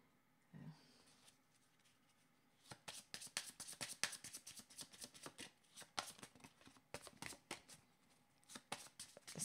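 Playing cards are shuffled for a card reading, a close run of quick riffling and flicking bursts in uneven clusters after a quiet start, with a brief voice near the beginning.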